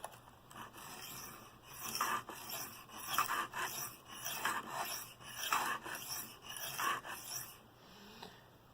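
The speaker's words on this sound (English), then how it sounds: "So we're going to use this coarse stone to get the apex back." A Bestech Scimitar knife blade is drawn freehand across a coarse sharpening stone in repeated rasping strokes, a steady rhythmic scraping at moderate volume.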